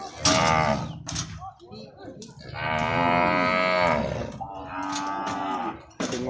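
Cattle at a livestock market moo loudly and close, several long drawn-out calls one after another, with a brief clatter between them.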